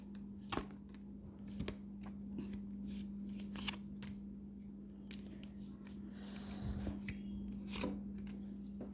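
Tarot cards shuffled by hand, with several crisp riffling bursts and soft slaps spaced across the span, close and fairly quiet over a steady electrical hum.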